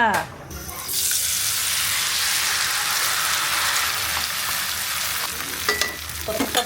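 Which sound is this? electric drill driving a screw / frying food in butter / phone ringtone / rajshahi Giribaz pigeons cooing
frying food in butter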